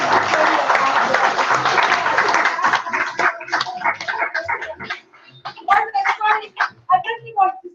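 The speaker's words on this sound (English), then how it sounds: "I want to give you a big round of applause." A crowd bursts into sustained applause, dense clapping that thins into scattered claps and fades, with voices chattering over the end.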